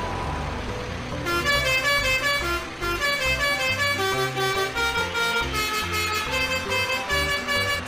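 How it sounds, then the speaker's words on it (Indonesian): A vehicle horn honked repeatedly, loud tonal blasts sounding over and over with a brief gap near the start, layered with musical tones in a cartoon scene, no speech. "Bisakah kau berhenti membunyikan klaksonnya?"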